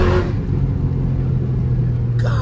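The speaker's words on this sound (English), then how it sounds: "Y'all hear that whine?" Loud, steady engine drone from inside a 1,100 hp Jeep Trackhawk on a drive, a low rumbling tone holding throughout with a rising whine near the end.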